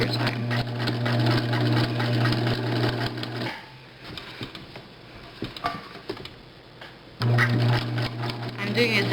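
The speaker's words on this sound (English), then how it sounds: "I'm doing a zigzag stitch as well." A sewing machine stitches a zigzag seam on a cloth diaper, running in a loud steady mechanical buzz, pausing for a few seconds of quieter handling noises, then starting up again close by.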